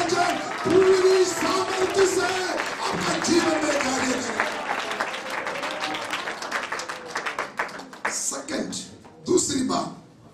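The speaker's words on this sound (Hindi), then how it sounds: "जोर से ताली बजाकर" A congregation at a Hindi Christmas church service claps loudly in a dense, sustained burst that fades toward the end, mixed with voices speaking over it.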